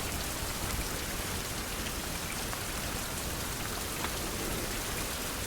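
Continuous rain in a seaside survival video game, a dense, uniform hiss of falling drops with no pauses and no voices.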